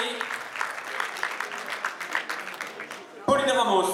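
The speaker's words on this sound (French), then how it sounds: "on l'applaudit très très fort s'il vous plaît" Audience applause at a 2012 boxing champions' evening in Melun, a crowd of clapping at moderate level, cut off by a louder voice near the end.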